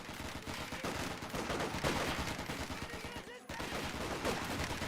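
Rapid, overlapping rifle and machine-gun fire from a garrisoned squad in the Company of Heroes 2 World War II strategy game, crackling steadily for several seconds with a brief dip, with a voice faintly underneath.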